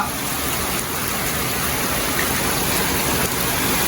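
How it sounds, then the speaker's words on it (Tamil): Heavy, sudden downpour in Jaffna, a loud, dense, continuous roar of rain with no break, close and enveloping throughout. "நல்ல மழை தான் வந்து பெஞ்சது"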